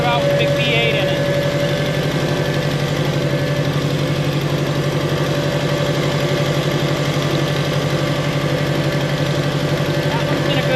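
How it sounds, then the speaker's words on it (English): A vintage McCormick tractor with a big V8 engine running at a farm tractor show, giving a loud, steady idling rumble throughout while someone talks over it. "here's that McCormick I was talking about with the big V8 in it"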